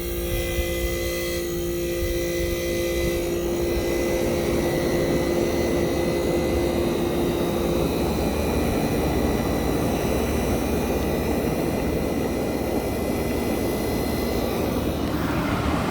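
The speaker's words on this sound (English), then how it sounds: "This is a mean sounding Tecumseh AJM compressors." A Tecumseh AJM compressor in a 1965 Fedders Weatherwheel air conditioner starting up and running: a loud, steady, rough mechanical roar with an early hum that fades, continuous throughout.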